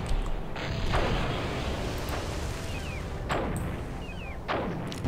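Cannon artillery fire in the game Cossacks, with several booming shots at irregular intervals over a continuous battle din of gunfire and noise, loud and fairly close.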